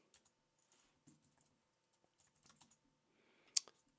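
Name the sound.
typing on a computer keyboard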